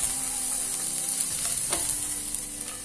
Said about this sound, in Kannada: ಆಮೇಲೆ ಆನಿಯನ್ ಹಚ್ಚಿಟ್ಕೊಂಡು ಅದನ್ನು ಹಾಕ್ಕೊಂಡು ಸ್ವಲ್ಪ ರೋಸ್ಟ್ ಮಾಡ್ಕೊಳ್ಳೋಣ.